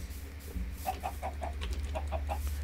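Chickens in modded Minecraft cluck in a quick series of short, evenly spaced clucks, moderately close and clear against a quiet background.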